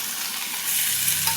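Tomatoes go into a frying pan of softened onions for a lentil-free idly sambar. A steady close sizzle swells louder and hisses harder as they land, with light stirring.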